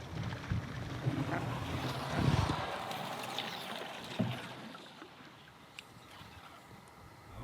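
Canoe paddling across a big boreal lake on the way to camp: soft water swishes and a few splashy strokes under steady wind and outdoor ambience, with no talk.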